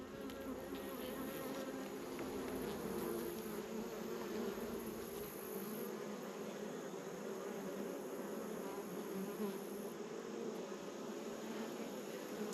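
Steady, dense buzzing of many honeybees during a September hive inspection, close and continuous throughout with no pauses and no talking.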